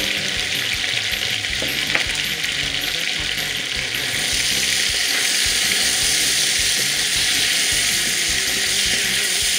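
Thinly sliced onions hit a hot pot with browned chicken for a Réunion-style chicken curry with calabash and chayote, producing a loud, continuous close sizzle with occasional scraping stirs and no talk.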